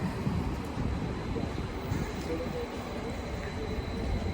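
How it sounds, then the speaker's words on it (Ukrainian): Trains rumble at Rapperswil railway station in Switzerland, a low steady rolling drone from the platforms mixed with wind and outdoor ambience, moderately loud and unbroken throughout. "Вон там відправляються потяги."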